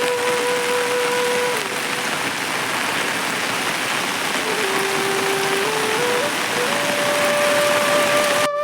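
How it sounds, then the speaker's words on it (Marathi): Steady rain pours down in a village, a dense, even hiss that continues loud and unbroken, with faint tonal sounds drifting through. "तर मित्रांनो, पाऊस आलेला आहे."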